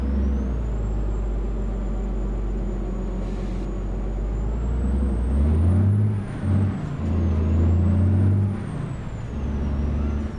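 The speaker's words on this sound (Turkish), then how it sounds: "Hem motor çok bağırıyor hem de bir sıkıntı var kalkışlarda." A heavy truck's engine in Euro Truck Simulator 2 drones loudly and continuously, rising in pitch as it revs and straining under load, with a brief air-brake hiss partway through.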